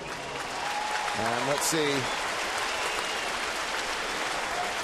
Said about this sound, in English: Getting a nice hand from the crowd here at Military Appreciation Day at Yankee Stadium